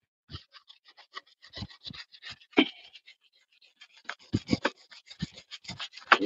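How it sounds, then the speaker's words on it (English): Sandpaper of 80 grit rasps across the paint of a 1996 Geo Tracker in quick, uneven strokes, close and fairly quiet, with a short pause midway. "First off, we're going to take our 80 grit sandpaper"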